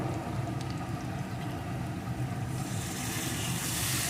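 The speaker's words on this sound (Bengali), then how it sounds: "আমি এখানে এক কাপ পরিমাণ জল দিয়ে দিলাম" Water is poured into a hot pan of frying bottle-gourd peel and mung dal, and a steady hiss swells brighter and louder over the last couple of seconds.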